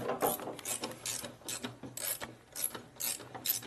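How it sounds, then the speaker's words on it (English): A hand ratchet tightens the brake caliper nut on a 1988 Harley-Davidson FXR, giving short, close bursts of rapid clicking strokes, about seven in a row, with quiet gaps between them. "What are you tightening up? The brake caliper."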